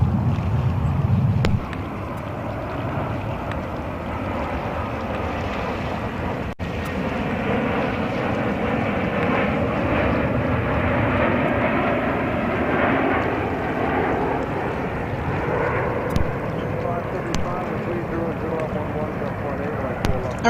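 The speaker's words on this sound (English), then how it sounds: "this aircraft is an Embraer E175LR and is 13 years old." A 13-year-old Embraer E175LR jet at JFK airport gives a steady, loud broadband engine roar with wind noise buffeting the microphone, and a person talks over it throughout.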